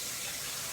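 Water running over a handful of aquarium rocks held in the hand while cleaning a betta fish tank, a steady close gush with no break.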